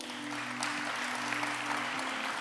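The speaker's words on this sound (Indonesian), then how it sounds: "Kasih tepuk tangan buat Yesus dong." Applause from the congregation at a youth church service, a steady, moderately loud patter of clapping over a low electrical hum, with no talking.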